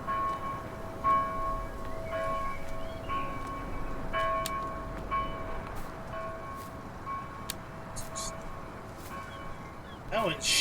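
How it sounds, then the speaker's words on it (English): Church bells ring on the Ballydorn Farm map in Farming Simulator 19. Sharp metallic strikes with lingering tones repeat at irregular intervals over a constant background hum. "Church bells are ringing because the zombie apocalypse is hit."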